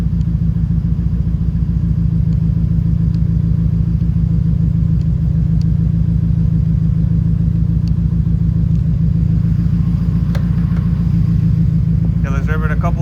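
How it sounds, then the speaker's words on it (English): A 1989 Nissan 240SX engine with a fuel injector that is not firing runs loud and steady, producing a continuous low, throbbing drone that holds nearly constant rather than climbing in clear revs, with a brief burst of other noise near the end. "let's rev it a couple times and check it out"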